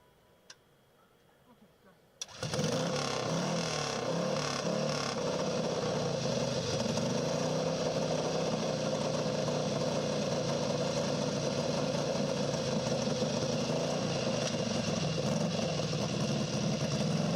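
A racing motorcycle engine roars at a dry lake course during SCTA El Mirage speed trials, starting after a quiet pause and then running loud and steady for the rest of the clip.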